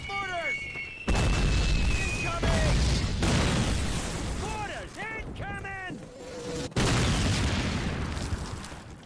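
Mortar shells explode in the original 2003 Call of Duty war game. Several sharp, heavy booms burst out at intervals amid battlefield noise, with voices speaking between the blasts.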